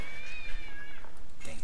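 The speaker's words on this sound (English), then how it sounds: "Dang cat." A cat meows in the video game The Longest Journey, a short rising call with clear tonal overtones, heard under background game music with a voice speaking near the end.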